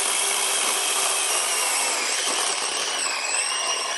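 A DeWalt battery chainsaw cuts through wood with a loud, steady, high-pitched whir and rasp that runs continuously at close range, easing slightly near the end, with no talking.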